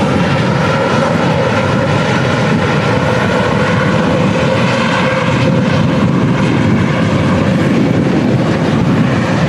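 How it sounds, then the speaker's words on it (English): Steady, loud engine roar of a Titan Airways Boeing 757 taxiing at Manchester Airport in stormy crosswind conditions, continuous and unbroken without voices. "We've also got the Titan 757 on the taxi out now as well"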